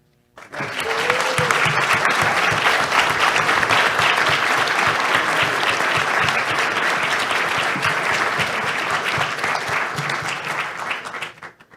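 Audience applause fills the room after a talk at an international seminar on threats to democracy, a sustained, even wash of clapping lasting about ten seconds before tapering off at the end.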